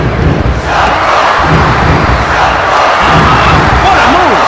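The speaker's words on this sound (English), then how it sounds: "Check out this crowd! They're on their feet!" Loud, steady crowd roar and cheering from a WWF Attitude wrestling video game on the Dreamcast, a dense arena wash sustained throughout with scattered thuds underneath and no talk over it.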